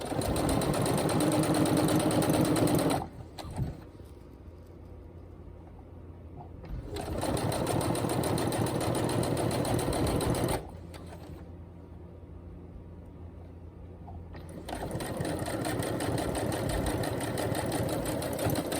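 A sewing machine stitches across webbing and ribbon in three steady runs of rapid mechanical whirring, separated by short quieter pauses while the fabric is turned.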